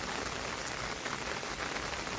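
Heavy unseasonal rain falling across Sindhudurg on the Konkan coast, a steady, dense hiss of downpour, even and unbroken throughout, with no voices.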